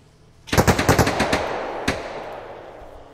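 AKS rifles fire in the Arma Reforger video game: a loud, close burst of about eight rapid automatic shots, then one more shot, with an echoing tail fading out.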